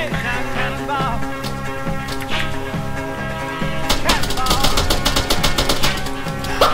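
Rapid bursts of gunfire in the video game Salt Riders, crackling repeatedly over a steady game music bed, growing denser and louder toward the end.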